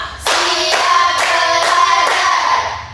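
Students in a classroom clap in unison to a count, about five strong synchronized bursts in steady succession, close and loud, with no talking.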